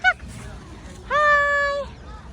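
Loud, harmonic honking calls from a peacock at a village animal park: a short squawk, then a sustained nasal wail of nearly a second, with low background rumble and no talk.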